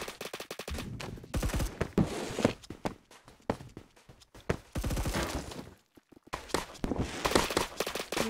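Rapid bursts of automatic gunfire crackle in a shooter video game, broken by brief pauses and footsteps, loud and close throughout with no voices over it.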